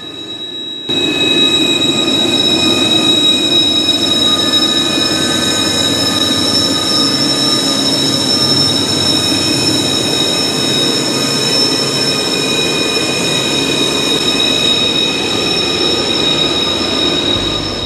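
A freight train climbing a hill rumbles past loudly and steadily for a long stretch, wheels squealing in sustained high tones over the heavy rolling noise.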